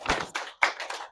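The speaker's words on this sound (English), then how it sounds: "Love the clapping." Students in a classroom give a brief burst of applause, a few quick claps close by.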